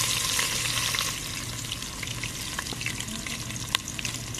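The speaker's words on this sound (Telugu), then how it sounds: "ఇప్పుడు వీటిని కాసేపు వేగనివ్వాలి" Chopped onions frying in oil with salt for a country chicken curry, a dense, even sizzle close by throughout, with faint occasional stirring ticks.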